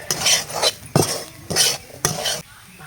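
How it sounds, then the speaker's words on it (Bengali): Semolina being stirred into vegetables in a pan, a utensil scraping in four distinct rhythmic strokes of about half a second each, close and fairly loud with no talk. "এবার সুজি দিয়ে একটু নাড়াচাড়া করে মিশিয়ে নেব ভালোভাবে সবজির সঙ্গে সুজিটা"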